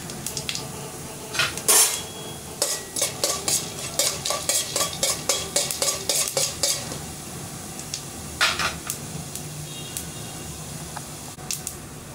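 Urad dal is added to a frying pan for a Tamil manathakkali keerai kuzhambu and stirred, a spoon scraping and tapping the pan in a steady rhythm over a soft sizzle, close and clear with no talk.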